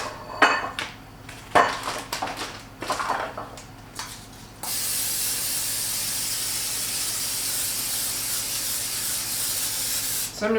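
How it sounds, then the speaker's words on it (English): Cooking spray hisses in a steady, continuous burst onto vegetables in a pan for parmesan chicken and quinoa meal prep, following several short clattering knocks of pans and utensils. "I am going to spray some directly on the vegetables as well"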